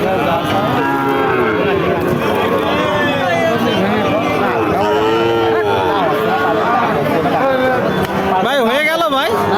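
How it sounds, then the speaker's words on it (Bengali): Loud, drawn-out moos from a calf close by, repeated over a busy cattle market crowd with people talking and haggling all around. "এই যে বাসুর গরুটা"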